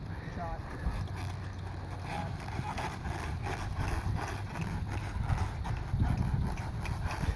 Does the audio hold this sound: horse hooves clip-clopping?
yes